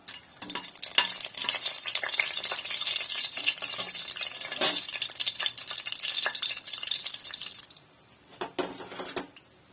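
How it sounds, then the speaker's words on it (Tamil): Whole spices (cinnamon, cloves, stone flower, star anise, bay leaf and two cardamom pods) sautéing in hot oil for rajma biryani, with a dense close crackling sizzle, intermittent spoon scrapes and a brief lull before a few final stirs, with no talking. "பட்டை லவங்கம் கல்பாசி அனாச்சிப்பூ இலை இதெல்லாம் ரெண்டு ஏலக்காய் இதை சேர்த்துட்டு வதக்கிக்கலாம்"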